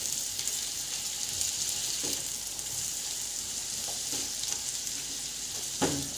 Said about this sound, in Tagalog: Ayan, magsusutay na tayo ngayon ng onion.